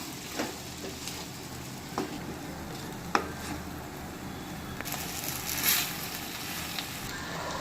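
Brinjal masala for kathirikai sadam sizzling and frying in a pan while being stirred, a steady close crackle with occasional scrapes and taps of the spoon against the pan.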